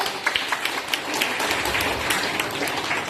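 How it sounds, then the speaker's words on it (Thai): Audience applause at a Thai sales presentation, a steady, fairly close patter of many hands with a few sharper individual claps standing out near the start. "ปรบมือให้อันนี้ครับ"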